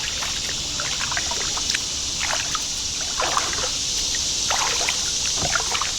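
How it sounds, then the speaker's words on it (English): A kayak paddle dips and pulls through a canal with a light current, making soft splashes and trickling drips every second or so, close by over a steady hiss of running water. "Let me kayak paddle you over"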